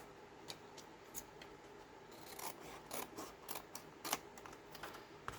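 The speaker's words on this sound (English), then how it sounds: "So I'm going to go ahead and cut this piece off." Scissors cut through a piece of paper during a folio craft project: a series of quiet, crisp snips and rustles, close and faint, with no one talking.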